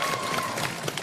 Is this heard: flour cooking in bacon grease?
no